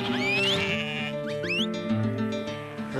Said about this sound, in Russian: Великолепное место для съемки овец и пастушьих собак, которые гонят это стадо по дикой местности.